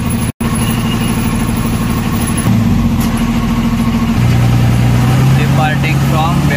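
An MSRTC Lal Pari bus at Belgaum bus stand, its diesel engine idling close and steady, then stepping up in pitch twice as it pulls away from the stand.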